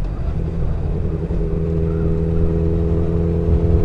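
A tractor hauling a load along a country road, heard as a steady low engine rumble with a droning hum that grows slightly louder as it passes close by.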